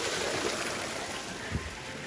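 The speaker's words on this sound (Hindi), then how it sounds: "ये पानी बहुत अच्छा लग रहा है, तो मैं जा रही हूँ इसमें पैर डालने. आप देखो यहाँ से ये बह रहा है" A cold water stream flowing on a road trip stop between Delhi and Punjab, a steady broadband rush of running water, close and fairly faint, with a soft bump partway through and no speech.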